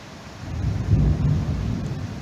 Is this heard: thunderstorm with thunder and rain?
yes